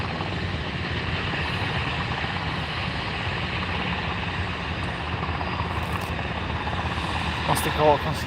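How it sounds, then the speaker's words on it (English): A helicopter near Aberdeen Airport keeps up a loud, continuous rotor and engine drone, steady for several seconds and swelling slightly near the end, with a voice briefly over it. "Helicopters."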